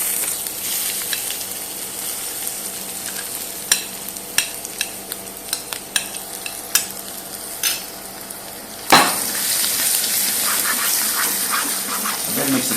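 Ginger and garlic fry in a pan for a Sri Lankan fish curry, a steady sizzle with scattered clicks of stirring, then a sudden loud hiss and gush as liquid hits the hot pan.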